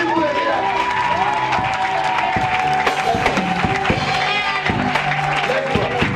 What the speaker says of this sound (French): Acclamons Jésus pour le miracle.